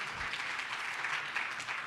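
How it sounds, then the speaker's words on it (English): Applause from an audience at an awards ceremony, a dense, even patter of clapping that stays steady and fairly distant for the short stretch. "give the Lord a big round of applause"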